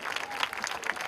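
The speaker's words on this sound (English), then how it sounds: "we cannot stop the applause." Festival audience applauding, dense continuous clapping from a large crowd at moderate distance, heard briefly.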